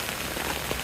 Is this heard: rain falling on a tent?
yes